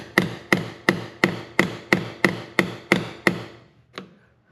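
A chisel struck repeatedly to cut out a piece of wood: about ten sharp, evenly spaced mallet blows ring out close and loud, then a single fainter tap after a short pause.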